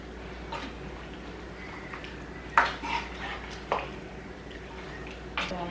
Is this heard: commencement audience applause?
no